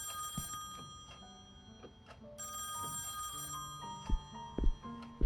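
Telephone ringing in the horror video game Song of Horror, a shrill bell ring repeating in bursts over eerie ambient tones and a few sharp thuds, fairly clear and close.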